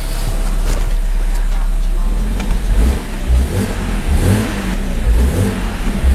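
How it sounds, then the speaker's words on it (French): BMW E90 320i with the N46 four-cylinder engine, freshly fitted with a replacement starter, given two or three throttle blips in a garage; a loud steady engine drone swells in short revs throughout. "on va donner 2-3 coups de gaz si tu veux"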